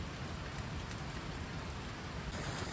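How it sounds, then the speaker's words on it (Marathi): Heavy rain falls in a hilly village, a dense, even hiss of drops striking surfaces nearby, continuous and loud with no voices. "पावसाचा जोर लय वाढला आहे."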